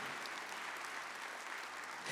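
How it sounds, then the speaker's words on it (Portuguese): A church congregation claps steadily through a Mass, a dense even wash of applause filling the space with no voices on top. "Aplauda os efeitos da palavra de Deus"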